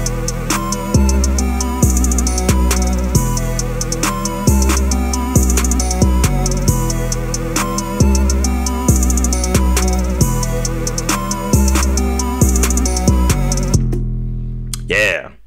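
A type beat made in FL Studio plays at steady volume, with heavy bass hits and crisp repeating percussion in a regular loop that cuts off shortly before the end.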